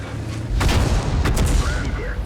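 Artillery fire in World of Tanks lands as a couple of heavy booms with sharp cracks, close and loud over a low rumbling battle background, with no voices.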